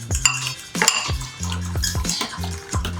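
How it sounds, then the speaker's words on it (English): A fork stirs and whips dalgona coffee in a cup or bowl, with repeated quick metallic clinks and scraping strokes in an irregular rhythm, close and fairly loud, no voices. "Lydian is stirring."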